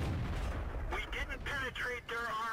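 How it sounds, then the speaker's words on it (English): Tank gun fire in World of Tanks aimed at an SU-85, a booming low rumble with loud blasts under a game voice speaking, close and continuous over a short span. "good shot off on the SU-85 at first when it was inside"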